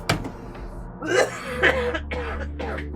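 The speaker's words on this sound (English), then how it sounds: "It turned into actual hurt coughing." A person coughs several times in quick, rough bursts, close and loud, with a low steady hum underneath.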